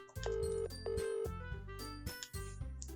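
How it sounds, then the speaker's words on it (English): A phone rings after a number is dialed, tonal ringtone bursts repeating in a quick pattern of four or five notes, fairly close and clear with no talking. "As I speak, I retrieve my phone from my pocket and start to dial."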